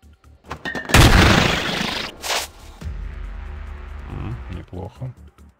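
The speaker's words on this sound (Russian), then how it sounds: "Мне нужно кинуть гранату тут" A grenade explodes in the space game Stellar Tactics: a sudden loud blast with a rumbling decay, followed by a second sharp burst and quieter rumbles, with a voice talking around it.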